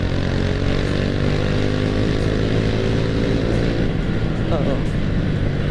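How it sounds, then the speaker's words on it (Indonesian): A Honda Astrea Grand motorcycle fitted with a Karisma carburetor runs steadily on a test ride, its exhaust droning loud and close throughout, with a rider talking over it. "Terus dari segi suara knalpotnya juga udah berubah guys dari yang sebelumnya."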